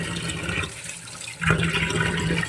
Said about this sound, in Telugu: ఫ్రెష్ చేప మంచిగా శుభ్రంగా కడిగేసుకోవాలి.